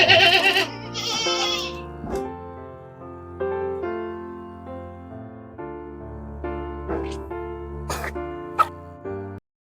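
Several goats bleat one after another, close by, their wavering calls overlapping with a few sharper cries near the end.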